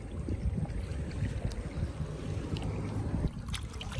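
A small boat is paddled on river water in Laos, with steady close splashing and trickling around the hull and dripping from the paddle, a continuous low wash and no voices.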